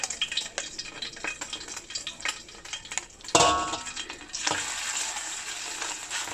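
Chicken breast pieces drop into hot oil and fry, a sudden loud hissing sizzle that settles into a steady crackle, after quieter clinks of utensils and light stirring.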